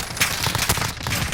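Striker SMG gunfire in Call of Duty Modern Warfare, a fast and loud burst of closely spaced shots that carries on without a break through the whole moment.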